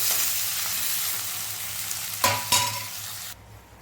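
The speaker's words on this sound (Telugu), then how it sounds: "రెండు చెంచాల నువ్వుల నూనె పోసుకున్నాం కల్జామాకి వేసుకున్నాం ఉల్లిగడ్డలు వేసుకున్నాం పచ్చిమిర్చి వేసుకున్నాం ఇందులో నాలుగు ఎండుమిరపకాయలు వేసుకున్నాం" Onions with green and dried red chillies frying in sesame oil in a pan, a steady close sizzle with two sharp bursts of stirring near the end before the sizzle drops away.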